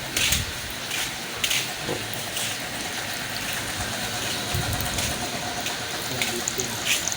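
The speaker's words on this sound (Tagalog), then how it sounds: "Kusog na ang ulan mga" Heavy rain pours down steadily outside a shop, a dense hissing wash with scattered louder drips and splashes throughout, fairly close, with no voices in the clip.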